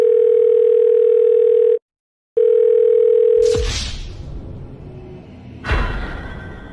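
An outgoing FaceTime video call rings with a steady, loud electronic tone that cuts off briefly, resumes, then gives way to low rumbling handling noise and a bump.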